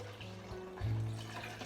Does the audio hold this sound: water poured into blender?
yes